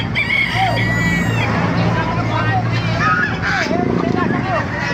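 A rooster crows amid other chickens clucking at a busy outdoor poultry market in Baliuag, with a steady crowd babble and nearby voices throughout.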